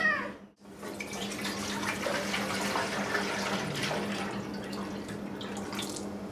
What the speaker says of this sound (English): The water is coming down on my fake coffee pot already and it's very warm